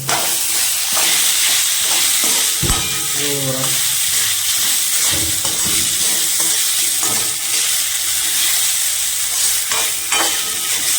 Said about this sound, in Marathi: पोहे टाकले बघा आता मस्तपैकी हलवून घेतो याला